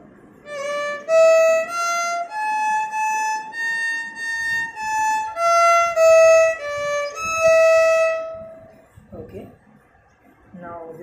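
A violin melody moves stepwise through a series of sustained, plain notes with no gamakas, slides or ornaments, played alone for about nine seconds before fading.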